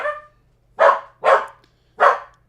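A dog barks four times: one bark, a pause, then three sharp barks in an uneven rhythm, close by over a faint low hum.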